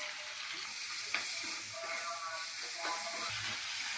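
Onions and spices sizzle in a hot pan, stirred and browned for a curry of mixed-lentil fritters. The frying hiss is steady and close, broken by scraping stir strokes and small crackles.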